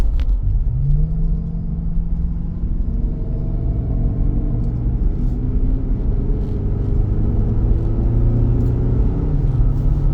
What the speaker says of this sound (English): I already have a lot more road noise than the KO2 all-terrain tires